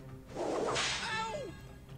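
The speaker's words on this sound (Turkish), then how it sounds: "Adam da beni kamçılıyor ama acımasızca." A whip lashes in an attack from the Pocket Mortys video game, a sharp crack with a swishing sweep that rises loud and fades over about a second, standing alone with no talk.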